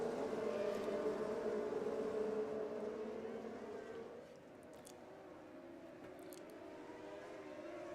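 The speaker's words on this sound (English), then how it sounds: "I just heard a lot of loud noises from the engines there." Micro sprint race cars running under caution behind a pace truck at a dirt-track event, their engines blending into a distant droning roar with shifting pitch that gradually quiets.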